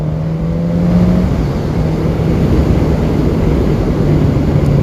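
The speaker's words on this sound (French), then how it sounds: "on a vachement plus le bruit de l'aspiration d'air, et je trouve ça très agréable d'entendre l'admission" A Suzuki GSX-S950 (2021, A2-restricted 47 hp) runs on a damp road, its engine and air intake making a loud, steady droning roar with a low tonal hum throughout, no voices.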